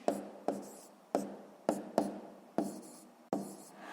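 Pen strokes scratching on paper while writing numbers to multiply 45 by 36 in columns, a sixth-grade math exercise; about seven short, close scraping bursts in an uneven rhythm, with no talking.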